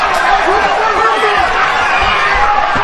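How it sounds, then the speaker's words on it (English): Boxing arena crowd cheering and shouting wildly during a fight, a loud continuous roar of many voices with a commentator talking over it. "This crowd is going nuts."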